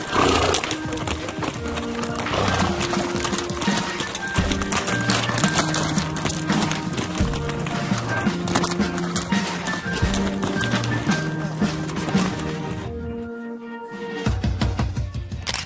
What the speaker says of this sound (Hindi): मारवाड़ी घोड़ा